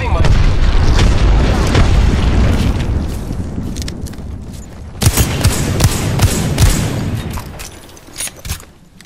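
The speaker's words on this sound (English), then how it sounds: "Look out, grenade." Loud, chaotic Halo: Reach firefight with a grenade blast amid rumbling booms and rapid gunfire, a dense roar that dips midway before a second burst of sharp cracks and thuds trails off.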